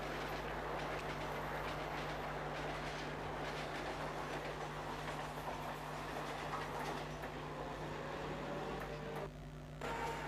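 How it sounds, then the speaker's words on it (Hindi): A premium express train passes through Kurla station in Mumbai, a continuous loud roar of rolling stock with steady rumble and faint wheel clatter throughout, and no voices. "ये ट्रेन ज़बरदस्त है यार। प्रीमियम ट्रेन ही लग रही है।"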